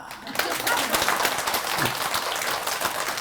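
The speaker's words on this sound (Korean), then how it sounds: "저 사람한테 박수 좀 한번 쳐봐" Applause breaks out from the audience at a temple's regular Buddhist dharma service, a steady wash of clapping from many hands that holds for a few seconds, with faint voices mixed in underneath.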